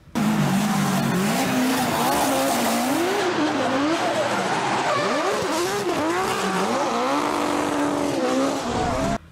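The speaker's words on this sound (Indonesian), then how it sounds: "Motorsport ini adalah drifting." A drifting car slides with loud, sustained tire squeal and a revving, rising and falling engine, the skid continuous and close for the whole stretch, with no one talking.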